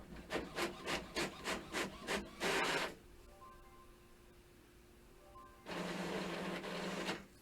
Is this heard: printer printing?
yes